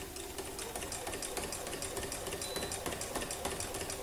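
Sewing machine running steadily while free-motion quilting rainbow arcs across fabric: a continuous, fairly quiet rapid mechanical stitching whir with an even rhythm throughout, no talking.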